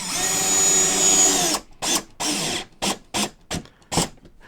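A power driver runs screws into plywood on a model railroad layout: a long steady whir as one screw drives in, then a run of short, separate bursts as it is tightened, loud and close.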